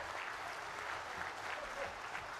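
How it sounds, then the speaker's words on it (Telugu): Sustained applause from an audience at a BJP Andhra Pradesh state party meeting, a dense even clapping wash heard at a moderate distance with no talk over it. "గట్టిగా చప్పట్లు, కరతాళ ధ్వనాలు."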